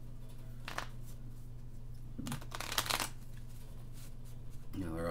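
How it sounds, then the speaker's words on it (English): Stiff little playing cards being shuffled at a Rockingham race event: a few short riffling bursts and papery slaps over a steady low hum, ending with a louder rustle. "These are really tough little cards to shuffle"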